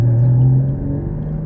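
A Porsche Cayman GT4's mid-mounted engine, sitting just behind the driver, hums close and loud with a deep droning tone that eases off slightly partway through, with no talking.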